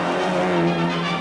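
A powerful Opel rally car and Renault Maxi 5 Turbo cars race in a mid-1980s Nord Pas de Calais rally stage, engines howling close with a tight, harmonic revving roar.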